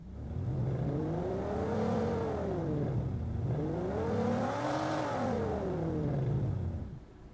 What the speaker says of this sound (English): I can get this really cool rev sound and control over here.